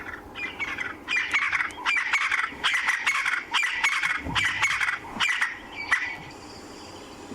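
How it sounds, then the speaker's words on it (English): A crested francolin calls during a morning safari drive, a harsh rhythmic series of loud squawking notes repeated in quick bursts for several seconds, fairly near, with no talk over it. "This is the crested francolin calling."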